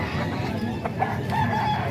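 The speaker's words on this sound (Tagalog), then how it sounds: "Ito mga manok dito sa Kalumpit" Chickens and roosters in Calumpit cluck and call close by, with a rooster crowing through a steady farmyard din.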